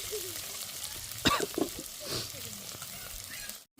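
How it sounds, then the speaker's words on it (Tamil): Small onions sauté for a fish curry, making a quiet, steady sizzle in the pan, with a few brief clatters and stirring sounds in the middle and a short gap near the end. "சின்ன வெங்காயம் போட்டுக்கோம் கொஞ்சம் நல்லா வதங்கி வரட்டும்"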